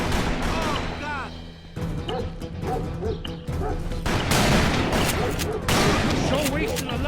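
Gunfire in the Western shooter video game Call of Juarez: Bound in Blood, with dense repeated gunshots and a busy battle soundscape, loud and continuous, under character voices.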